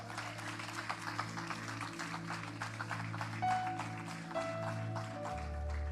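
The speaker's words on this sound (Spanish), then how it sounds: "Si le puedes dar un aplauso al Señor, dáselo con fuerza." A church congregation claps during a Sunday service, a faint run of scattered handclaps in uneven rhythm over a low steady hum, heard at a distance.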